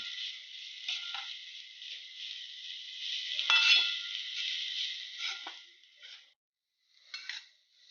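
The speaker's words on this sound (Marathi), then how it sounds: "थोडी साखर घालावी व्यवस्थितपणे परतून घ्यावी" Bitter gourd being sautéed with sugar in a pan over a low flame: a steady close sizzle with occasional stirring scrapes, easing to a brief pause near the end, with no talking.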